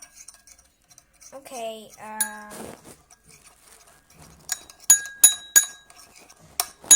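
A tiny pink slime is mixed in a small container, giving a few light clinks and taps of a utensil against the container after a voice speaks briefly over soft background music.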